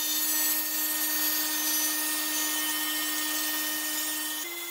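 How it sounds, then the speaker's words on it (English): A power saw cuts wooden runners for a crosscut sled, holding a steady high whine with a strong tonal hum. The pitch drops slightly near the end as the cut finishes, close and loud, with no talking. "Now you want to go ahead and cut your runners."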